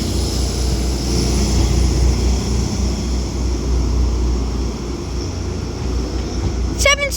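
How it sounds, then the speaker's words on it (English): Northern Class 158 diesel multiple unit departing Wigan Wallgate station, a loud, steady low engine rumble and drone close by, with a brief bright whistle-like tone at the very end. "departing is going to be a Northern Class 158 of 158756, which is just departing now"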